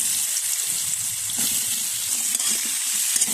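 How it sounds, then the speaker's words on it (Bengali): Pointed gourd and potato pieces coated in turmeric and salt frying in hot oil, a dense continuous sizzle heard close with soft stirring knocks, no talk. "আমি পটল আর আলুগুলোকে ভেজে নিব, হলুদ লবণ মাখিয়ে নিয়েছি, দিয়ে দেবো।"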